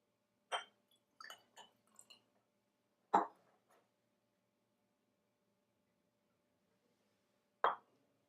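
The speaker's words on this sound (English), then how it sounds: "when we mix catalyst, lysol, and ethanol" Catalyst, Lysol and ethanol are mixed in a lab to make biodiesel, with a few isolated plops and small glassy clinks separated by near silence, quiet and close.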